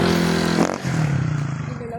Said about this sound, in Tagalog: Kakaiba yung tsura ng motor, no?